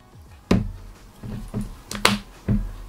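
An ESR iPad keyboard case being folded shut, a handful of sharp snapping clacks and softer taps at uneven intervals, close and crisp, with quiet gaps between.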